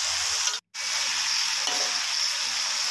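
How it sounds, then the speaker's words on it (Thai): Crispy pork being stir-fried with Chinese kale in a hot wok, a steady loud sizzle and hiss of frying running throughout, broken by one brief near-silent gap early on, with no talking. "แล้วก็โรยหมูกรอบลงไปเลยนะครับผม ผัดคลุกเคล้าไปนะครับ"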